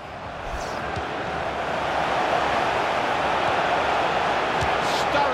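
Stadium crowd in the FIFA 16 football game buzzing and roaring after a goal, a steady dense wall of noise that swells slightly and holds, with commentary voices over it.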